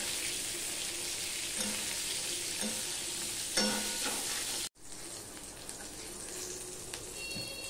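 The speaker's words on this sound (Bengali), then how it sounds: "এবার আমি বেগুনটা এপিট ওপিট করে নেব একটুখানি সময়।" Eggplant slices fry in oil in a pan and are flipped over, constant crackling sizzle with a few spatula clicks, briefly cut off then resuming.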